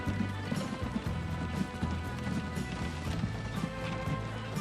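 Horse-drawn transport in the Transport Fever 2 video game, hooves clip-clopping in a steady rhythm over a dense, busy game soundscape with low rumbling and clatter.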